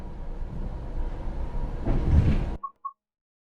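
An Aero 3 electric multiple unit train on New Jersey Transit's Morristown Line in Train Sim World 6 hums and rumbles along at moderate volume, swelling briefly before cutting off, followed by two short electronic beeps.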